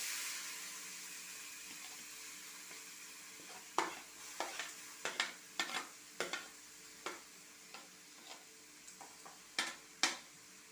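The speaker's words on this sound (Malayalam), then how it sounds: "അതിലേക്ക് സവാള ഇട്ട് കൊടുക്കാം" Salted sliced onions fry in a pan for a chicken curry, a soft steady sizzle broken by a run of irregular spatula scrapes and taps against the pan, with no talking.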